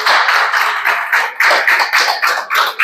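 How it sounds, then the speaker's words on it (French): A conference audience applauds the speaker Pierre at the close of a talk, with dense, loud clapping from a room full of people for about three seconds. "On vous applaudit, Pierre."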